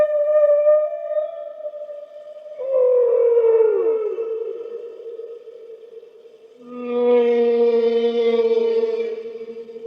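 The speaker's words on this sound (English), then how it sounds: "It's a whale." A whale calls in three long, tonal moaning phrases, each swelling and fading, rich in overtones and heard alone without speech.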